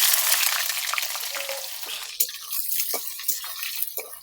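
Five sliced onions hissing and sizzling in hot oil in a pan with bay leaf and cinnamon for chicken kosha, a steady close crackle with occasional stirring clicks and no talking.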